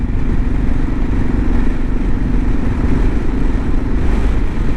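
A 2022 Kawasaki KLR650 motorcycle during break-in, ridden around 40 mph on asphalt with a touchy throttle, giving a continuous loud engine rumble with wind noise and no talk.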